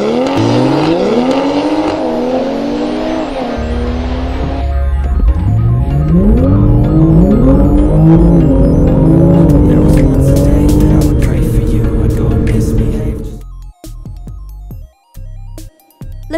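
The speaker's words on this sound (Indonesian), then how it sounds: "dari 40 mobil BMW bertenaga super kencang jajal aspal baru sirkuit Mandalika" BMW cars on the new asphalt of the Mandalika circuit, loud engines revving and shifting up through the gears as they accelerate past close by, with tire noise, fading to quieter intermittent sounds at the end.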